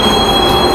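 A large train passes at a station in Japan, a loud, steady, close rush of rolling wheels and rail noise with a sustained high squeal running throughout.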